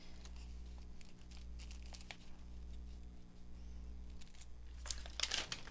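Up close, a plastic bag is crumpled and crinkled by hand in irregular crackling bursts that grow louder toward the end, over a steady low hum.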